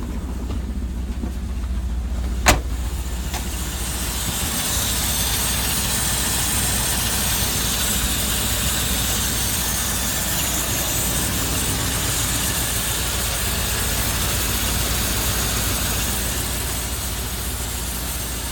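A 1984 Chevy truck engine runs steadily in gear without moving, giving a constant loud mechanical drone with a low rumble and no clear rise or fall in revs, with one sharp click early on.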